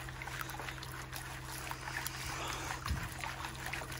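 Water sloshes and splashes out of a gold pan during gold panning on bedrock, a faint continuous trickling wash with a small knock near the end and no talking.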